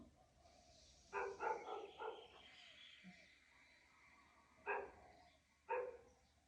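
A dog barks in a quick cluster of four or five yaps, then two more single barks after a pause, slightly distant over a quiet background hum.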